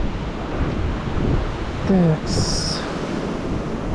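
Steady wind buffets the microphone by the sea on the coast near Yalta in February, a broad continuous rush with surf-like texture underneath and a brief voice cutting in once.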